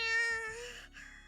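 Machina, a girl in the Grisaia visual novel, lets out a cat-like feline cry: a single drawn-out, high wavering meow that fades after about a second, voiced alone and close.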